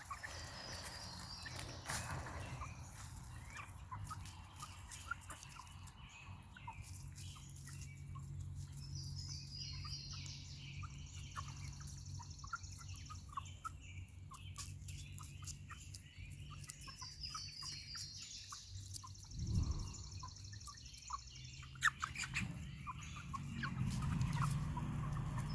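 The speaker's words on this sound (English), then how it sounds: "They're very serious about eating right now." Eight-week-old chicks at breakfast clucking and peeping softly and repeatedly at close range, with faint pecking and scratching noises.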